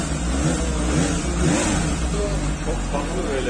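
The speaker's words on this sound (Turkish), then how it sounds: "Ondan sonra size bir egzoz sesi dinletelim tabii." A Suzuki GSX-S750 motorcycle engine rumbles and revs in low bursts through its exhaust, loud and close, with a person talking over it.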